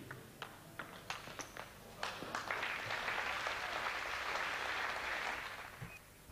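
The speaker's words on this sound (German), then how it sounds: "Applaus" Spectators at a 1998 table tennis exhibition match break into steady applause, starting with a few scattered claps that swell into a dense, sustained ovation before tapering off.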